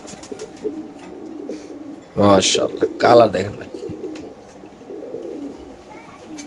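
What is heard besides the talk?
BRPFC racer pigeons cooing, male pigeon's call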